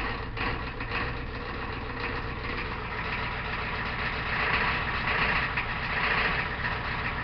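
A 1993 Ford IDI non-turbo diesel truck idling after a cold start with no block heater on a frosty day, a steady, rough low rumble with diesel clatter throughout and no talking.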